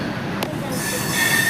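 The Ahmedabad Navjivan Express passing at a railway crossing, a loud, close rush of rolling stock with a brief sharp wheel screech, the roar building steadily toward the end.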